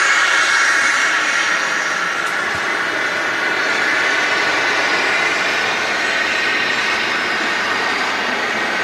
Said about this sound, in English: Cessna Citation arriving at Manchester.